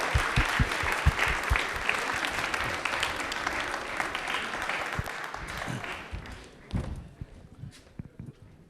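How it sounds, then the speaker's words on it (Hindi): A studio audience at a televised Rajasthani quiz show claps loudly for a contestant, a dense burst of applause that fades over the last few seconds with a few scattered thumps. "तालियां एक बार रोहित के लिए जोर वाली होनी चाहिए भाई"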